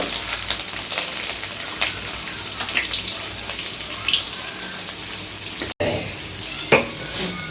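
Garlic hits hot tempering oil for a bitter gourd tamarind kuzhambu and fries with a loud, steady crackling sizzle, broken by a few sharper pops and a brief clink of a utensil.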